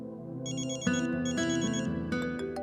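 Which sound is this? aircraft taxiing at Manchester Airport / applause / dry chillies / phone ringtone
phone ringtone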